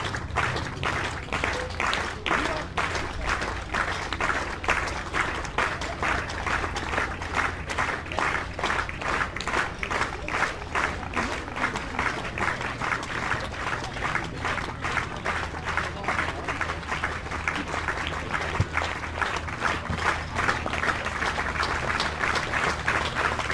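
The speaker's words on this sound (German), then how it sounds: "mit großem Applaus verabschieden wir ihn" A stadium crowd at a junior athletics gala in Mannheim applauds a pole vaulter with steady, sustained clapping that continues evenly for the whole stretch, with a dense, roaring crowd noise underneath.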